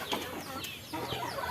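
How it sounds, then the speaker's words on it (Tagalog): Pet chickens cluck softly in a rural yard, a few faint scattered clucks against a quiet background. "Yung mga alaga kong manok."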